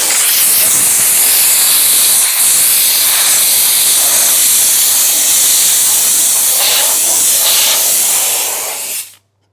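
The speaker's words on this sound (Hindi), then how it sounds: "आपको हल्का सा ऐसा स्प्रे कर लेना है" Shakti Technology S5 steam car washing machine spraying: a loud, close, continuous hiss of steam with slight surges, cutting off abruptly near the end.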